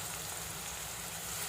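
Onions fry in hot oil with a steady, even sizzle and crackle, soft and continuous, like light rain, with no voices.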